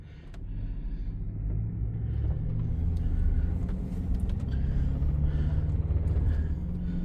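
A 1969 Ford Falcon, back on the road after sitting for 40 years, drives along with a deep, steady engine rumble that swells slightly as it pulls, close and continuous, with no talking.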